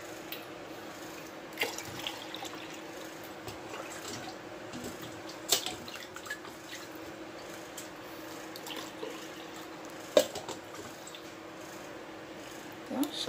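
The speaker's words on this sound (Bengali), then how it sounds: "সাড়ে 4 কাপ পানি দিয়ে দিলাম" Water is poured into a pot of rice for biryani, with soft splashing and trickling, a few brief clunks and knocks, and a quiet background.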